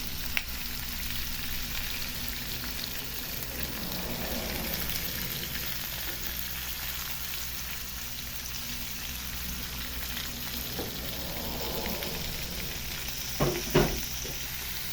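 Fish with other ingredients sautés in a pan, holding a continuous crackling sizzle for the whole stretch, with a couple of sharp knocks of a utensil near the end and no one talking.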